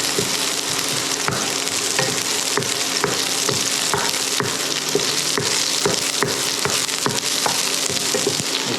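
Spices stir-frying in hot olive oil for sweet and sour sauce, a steady close sizzle broken by repeated sharp clicks and scrapes of a utensil against the pan.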